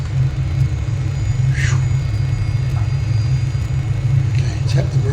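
Aircraft touchdown and rollout in Microsoft Flight Simulator on a flight over Ethiopia, a steady loud low rumble of wheels and engine that continues throughout with a few faint higher blips.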